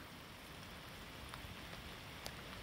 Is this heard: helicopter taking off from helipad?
no